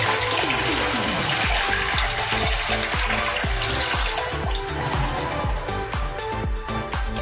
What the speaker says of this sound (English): we're going to add some little water because we don't want this to overcook